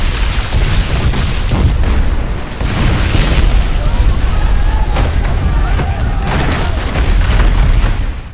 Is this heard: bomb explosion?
yes